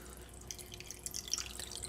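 Faint tap water running and dripping into a bowl of eggs and ice, a quiet steady trickle with splashy bursts toward the end.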